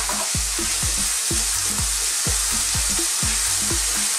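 Minced chicken for spring rolls frying in a pan, a loud continuous sizzle broken by regular scraping strokes of stirring, close up and without speech.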